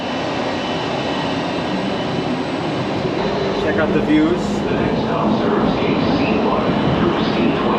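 An automated Skylink airport train at Dallas carries riders between terminals, a steady loud rumble and whine of the car in motion filling the whole stretch, with a person speaking briefly over it.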